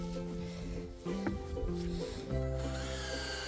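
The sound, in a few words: driving torque screws into wood for a feeder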